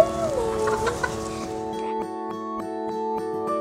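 Backyard chickens near a newly built coop cluck loudly and close at first, then the clucking fades and quieter, evenly spaced ticking sounds repeat under a steady tonal hum.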